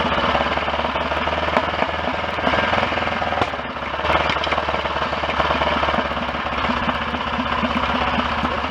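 A BSA DBD34 Gold Star 500 Scrambler motorcycle on the move, its engine loud and close with a rough, continuous pulsing drone that barely lets up for the whole stretch.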